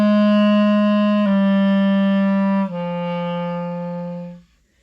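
A clarinet plays a slow descending waterfall exercise starting on C, three sustained notes each stepping lower, clear and close with no talking.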